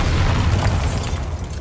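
A Bombarda blasting spell explodes in Hogwarts Legacy, a heavy low rumbling boom that holds steady and loud before tapering slightly.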